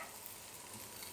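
Chopped cabbage is stirred in a pan over a low flame, giving a steady, even hiss and soft sizzle with faint scraping throughout, close and fairly quiet, with no voices.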